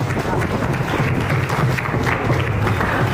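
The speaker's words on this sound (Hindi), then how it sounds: "बजा सकते हो ताली इस पे?" An audience claps together at a youth leadership event in Ramnagar, giving a steady, dense patter of applause that continues throughout without a break.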